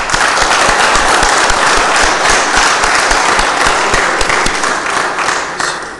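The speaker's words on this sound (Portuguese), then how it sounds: "solicito a todos que saudemos o pavilhão nacional com uma salva de palmas" A loud, dense round of applause fills a municipal council meeting room as attendees salute the national flag, continuing steadily before tapering slightly at the end.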